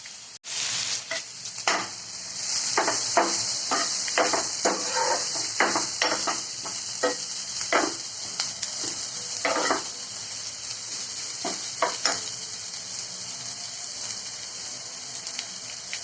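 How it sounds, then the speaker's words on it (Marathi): Chopped curry leaves sizzle and crackle in hot oil for vada pav tempering, with a steady broadband hiss and repeated scraping clicks of a spoon stirring against the pan throughout. "आता यात आपण चिरलेला कढीपत्ता टाकून घेऊया. यांना सगळ्यांना चांगलं परतवून घेऊया."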